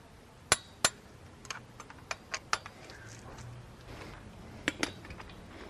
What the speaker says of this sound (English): I have a torque wrench, so I'm going to do the 21 foot-pounds that it calls for.